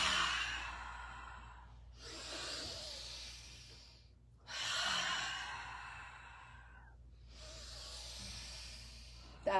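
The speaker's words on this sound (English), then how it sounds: "Exhale through the mouth." A person in a chair yoga session exhales slowly through the mouth, four soft breathy whooshes, close and fairly quiet, separated by short pauses, with no talking.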